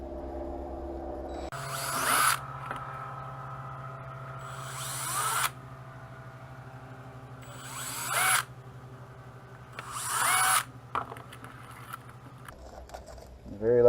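Power drill driving screws while mounting a PWM controller panel on a Pescador Pro 120 kayak: four short whirring bursts separated by pauses over a low steady hum, close and moderately loud.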